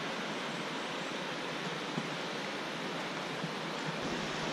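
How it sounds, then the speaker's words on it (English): Waterfalls on an island in the Azores pour down in a constant, loud broadband rush of falling water, steady and unbroken, with no voices heard. "These waterfalls are gorgeous."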